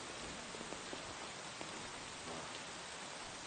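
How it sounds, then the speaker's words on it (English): Rain in Kingdom Come: Deliverance II falls steadily as an even, dense hiss with no breaks, heavy and continuous, with faint scattered patters beneath. "Oh, I hate rain."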